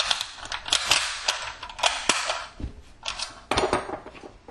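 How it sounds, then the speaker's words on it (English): Rifle rounds are pressed from a stripper clip into an AR-15 magazine, making a close series of sharp metallic clicks and snaps in uneven bursts with no talking. "the stripper clip goes in like so. And then you push down and it loads the rounds into the magazine"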